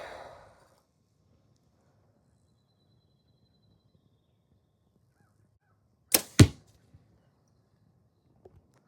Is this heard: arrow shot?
yes